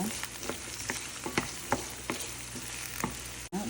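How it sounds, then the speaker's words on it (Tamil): Onions sautéing with fenugreek in hot oil, a soft continuous sizzle broken by regular spoon-stirring scrapes roughly every half second, close and fairly quiet. "வெங்காயம் போட்டாச்சு நல்லா வதக்கி விடுங்க"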